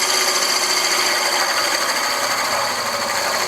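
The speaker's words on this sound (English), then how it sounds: "I'm doing that with a beading and parting tool" Wood lathe turning a piece as a beading and parting tool cuts a tenon, a steady bright scraping hiss over the motor's hum, continuous and close.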